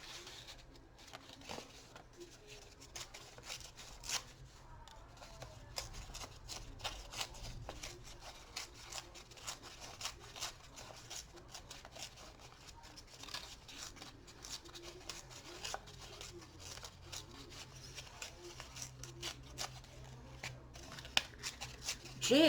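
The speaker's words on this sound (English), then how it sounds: "Gee, I got quiet all of a sudden, didn't I, when I was tearing paper?" Paper being torn by hand into small pieces for a collage, a steady run of soft ripping, rustling and crinkling close up, with no talk and only quiet handling noise between tears.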